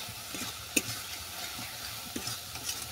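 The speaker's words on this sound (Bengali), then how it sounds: "মশলাটা ভালো করে কষিয়ে নিচ্ছি।" Spice paste with grated tomato stir-fried in a pan, a soft low sizzle with faint scraping stirs, quiet and close with no talk.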